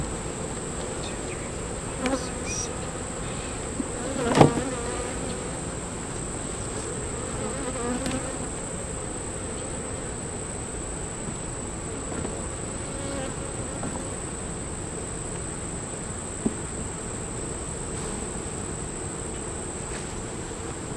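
Honeybees buzz steadily at an open beehive being worked, a dense swarm-like hum throughout with a few faint knocks and clicks from handling.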